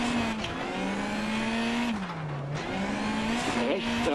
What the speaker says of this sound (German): Reifen blockiert.